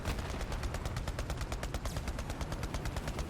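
Sustained automatic gunfire in a video game, a fast even stream of loud, close shots with no pause across a few seconds.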